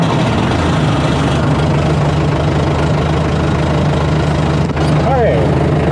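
The diesel engine of an old International Harvester B414 tractor idles with a loud, steady low knocking rumble, heard close up throughout while someone speaks.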